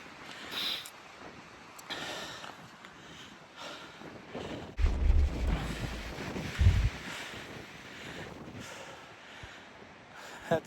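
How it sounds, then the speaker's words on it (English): Gusty wind on the summit of Old Speck mountain buffets the microphone with a steady windy hiss, swelling into heavy low rumbling gusts midway, alongside a hiker's close breathing and sniffs. "It's pretty windy."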